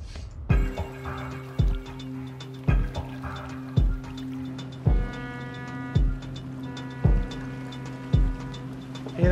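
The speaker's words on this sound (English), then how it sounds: "it's a land approach signal" A repeating electronic land approach signal pulses about once a second, each tone beginning with a sharp low thump, steady and moderately loud with no voices.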